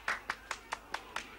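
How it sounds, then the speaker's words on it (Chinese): Six evenly spaced hand claps in a steady, moderate rhythm, fairly soft and close, applauding in a street scene with no voices over them. "我代表本街的老百姓为郭先生鼓掌"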